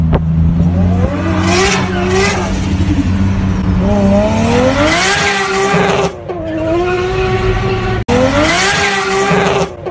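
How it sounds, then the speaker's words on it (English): Toyota JZ-engined drift car with a very loud exhaust, revving hard in repeated rising and falling bursts, with tire squeal and skidding at a drift event. "This one is one of the loudest exhausts and the most best sounding exhausts for the JZ."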